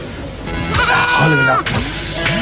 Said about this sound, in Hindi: बकरी की नहीं, बकरे की आवाज है